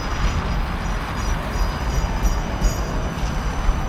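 A tram rolls along a city street in Saint Petersburg, giving a steady, dense rumble and rattle of wheels on rails with faint high squeal, continuous and fairly close, without speech.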